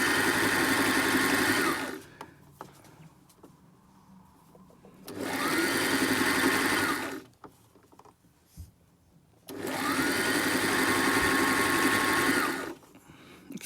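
Sewing machine running a zigzag stitch along a fabric edge while gathering fabric, in three steady mechanical bursts of about two to three seconds each, separated by quiet pauses with faint handling noise.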